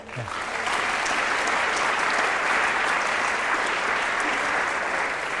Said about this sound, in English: we must applaud him